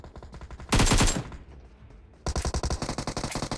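Automatic gunfire from a BGMI mobile battle royale match, two loud rapid bursts separated by a quieter gap, with steady background game sounds between them.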